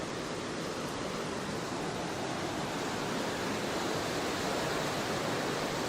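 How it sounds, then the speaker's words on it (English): Taboose Creek in the Sierra Nevada running high with snowmelt, a dense, steady rushing roar of water, loud and continuous with no pauses and no voices. "There's an excess amount of water flowing this year from the snowpack that was accumulated this winter."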